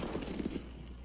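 A single rifle gunshot fired outdoors at a block of ice, a muffled distant-sounding report with a short rumbling tail and no voices.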